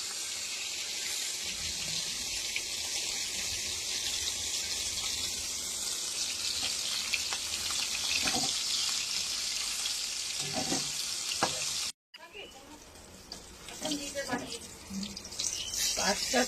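Prawns frying a few at a time in hot oil, a steady close sizzle that briefly cuts out, then resumes with scattered crackles.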